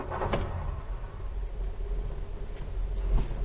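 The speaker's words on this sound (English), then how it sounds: "Let's start the engine." A Ford Escort Mk1, still a little cold, cranks briefly and settles into a low, steady idle close by. The engine runs alone with no talk.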